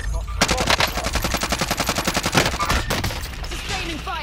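Video game gunfire: a loud, rapid burst of automatic fire with evenly spaced shots lasting a couple of seconds, followed by a few scattered shots and quieter game sounds.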